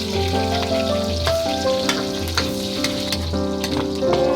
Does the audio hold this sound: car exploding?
no